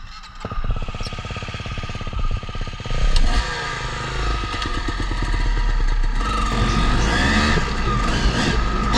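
Motorcycle engine revving loudly and steadily during wheelie practice, a race bike with a rough, clattering idle that rises into sustained high-revving drive, close and continuous.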